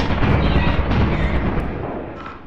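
Gunshot in the video game Lethal Company, a loud heavy boom with a rumbling tail that fades over two seconds, close and alone.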